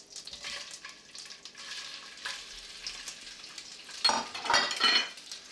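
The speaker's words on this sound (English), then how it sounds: "And then I'll drop the prawns in." Prawns dropped into olive oil and butter in a pan over medium-high heat with red pepper flakes, a soft steady sizzle rising into louder crackling bursts near the end.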